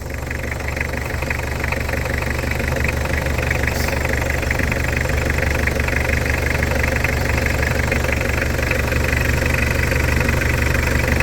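A Mitsubishi L200 pickup's engine idles steadily up close, a constant loud rumble with a faint knocking clatter and vibration throughout, no voices.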